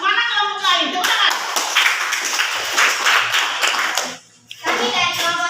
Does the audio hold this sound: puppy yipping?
no